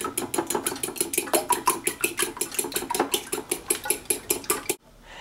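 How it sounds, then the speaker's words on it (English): Eggs being stirred in a pan for fried rice with mixed vegetables, a utensil clattering against the metal in fast, steady scraping strokes that stop abruptly near the end. "the next step is to start stirring the eggs"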